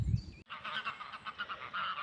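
A pair of geese fly in during a spring walk by the water in Denmark and call out with a quick series of faint, repeated honks from some distance away.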